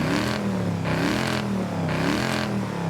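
DeLorean with a V8 engine in Forza Horizon 5, revving hard in repeated surges, three loud rises and drops in pitch close up with no voices.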